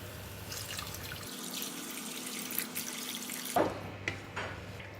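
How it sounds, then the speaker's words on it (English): Water is poured into a cooking spice mixture for asam pedas ikan kembung in a pot, a faint splashing pour that stops, followed by a few soft clinks and sizzles. "the mixture is getting dry and I am going to add some water."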